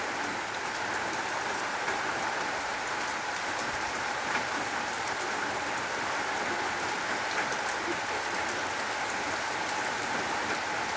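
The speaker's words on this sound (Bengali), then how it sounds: "খুব বৃষ্টি, বৃষ্টিতে ঠান্ডা হাওয়া বাতাস" Heavy rain pours down steadily after days of heat, a dense, unbroken hiss of drops with no pauses and no voices.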